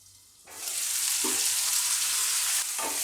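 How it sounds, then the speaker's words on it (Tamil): Raw green turkey berries frying in hot oil in a pan, a loud steady sizzle that starts suddenly and holds throughout, with a couple of faint clinks from stirring. "இந்த சுண்டைக்காயெல்லாம் நல்லா வணங்கட்டும்."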